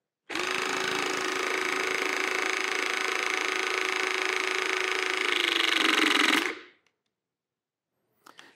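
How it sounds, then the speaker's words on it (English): A Greenlee Intelli-CRIMP battery-powered crimping tool runs for about six seconds with a loud, steady close motor whine and buzz, then cuts off abruptly, followed by faint clicks. "it's going to go back to the point where it first started recognizing pressure, and then it's going to back up a quarter of an inch by itself"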